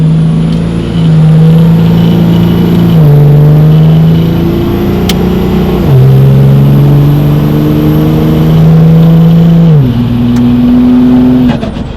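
A loud diesel truck engine, a 12-valve Cummins, revs and accelerates through several gear shifts, its pitch climbing then dropping with each change, close and continuous.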